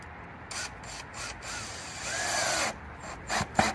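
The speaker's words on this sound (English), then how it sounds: "I'm just gonna put 2 screws in right now just to keep it in." Screws being driven into wood while building a platform bed: short bursts of grinding, ratcheting driver noise with brief pauses, close and moderately quiet.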